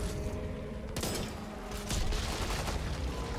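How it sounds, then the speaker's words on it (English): Rapid gunfire in Back 4 Blood is aimed at a hulking ogre, with bursts of shots and heavy thuds over a dense, roaring game soundscape and no speech. "How am I missing these shots? I'm shooting right at it."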